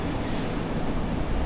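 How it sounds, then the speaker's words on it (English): A narrow gauge railcar train arriving from Mariazell in Austria rumbles past close by, a loud, continuous roar of wheels and motor with a faint metallic squeal, no voices. "Here's the train coming from Mariazell."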